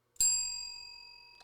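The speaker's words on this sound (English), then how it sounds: "Here's the bell." A single bell is struck once, giving a clear, bright ding that rings on and fades slowly over about a second, heard alone and close.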